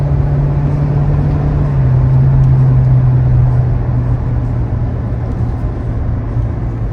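A 2023 Toyota Prius Limited all-wheel-drive hybrid under throttle while driving, giving a steady, moderately loud engine drone with a low hum over constant road noise.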